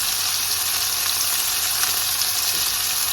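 Asparagus and other vegetables sautéing in a hot pan, a steady close sizzle and crackle of frying with faint stirring, no voices.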